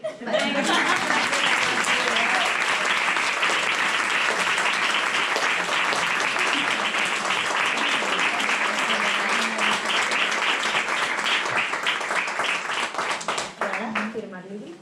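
An audience at a book presentation applauds at length, sustained lively clapping from a small crowd that holds steady with faint voices underneath before tapering off near the end.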